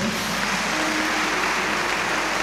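A church congregation claps for God, a dense, even wash of applause that holds steady throughout the short stretch.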